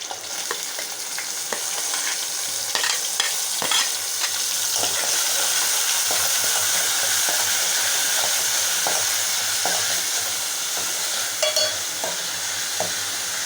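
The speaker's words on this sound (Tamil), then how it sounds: "வெங்காயம் நல்லா ப்ரௌனியாக பொன்னிறமாக வறுபடணும்." Onions frying in hot oil with cinnamon and cloves give a loud, continuous close-up sizzle with scattered crackles and occasional stirring scrapes, unbroken by any speech.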